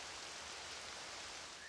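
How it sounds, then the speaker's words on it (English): Steady rain from Zelda: Twilight Princess, a dense, even hiss of falling rain and drops on surfaces that holds constant and fairly loud throughout, with no talking. "here's a weird puzzle where I actually stop the rain."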